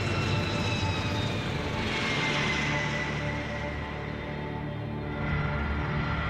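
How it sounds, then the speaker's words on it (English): The four jet engines of a C-5 Galaxy transport aircraft give a loud, sustained roar with a whining tone that swells and eases slightly, steady throughout with no talking. "When the Megaplane's 4 engines work together, they create so much thrust that the plane can take off"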